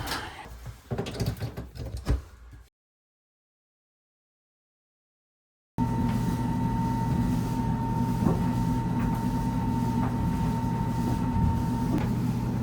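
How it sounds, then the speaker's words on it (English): A Whirlpool washing machine with a newly replaced drain pump runs steadily after a short silence, a smooth continuous motor hum with a faint tonal whine and occasional soft clicks, no squealing. "It's back to its normal sound and no more of that loud squealing noise at all with the pump replacement."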